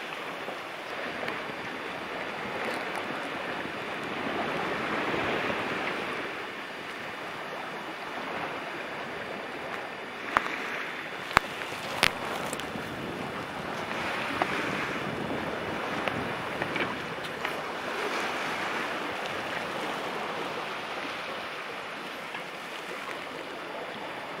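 Boat running at about eight knots through ocean waves near rocky cliffs off Cap Gaspé, a continuous broad rush of water and wind buffeting the microphone, with a few sharp knocks midway.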